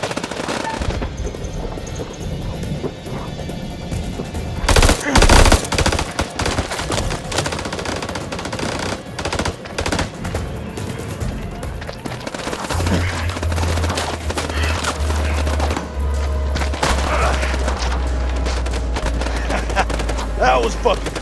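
A firefight in the video game House of Ashes: bursts of machine-gun fire and scattered gunshots rattle through a long stretch, with loud cracks near the start and a low rumbling drone later, while voices shout over the fighting.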